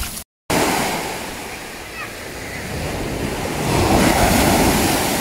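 Sea waves crash and wash onto the shore of Samal Island in Davao, Philippines, a loud, continuous roar of surf mixed with gusty wind buffeting the microphone after a brief dropout at the start.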